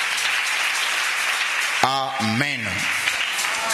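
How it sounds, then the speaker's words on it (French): A congregation applauding at a church gathering, with steady clapping throughout and a voice speaking over the applause partway through. "J'aimerais que tu acclames encore."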